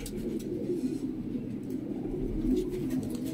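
A breeder's pigeons in Faisalabad coo softly and repeatedly in low, throaty murmurs, fairly close, over a faint background hum.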